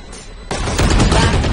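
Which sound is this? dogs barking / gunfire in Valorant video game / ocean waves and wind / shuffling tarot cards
gunfire in Valorant video game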